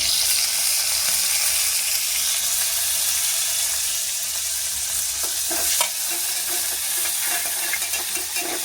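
Fenugreek leaves and coriander sizzle steadily in hot oil for a methi dal tempering, a close, continuous frying hiss with occasional stirring scrapes and no talk.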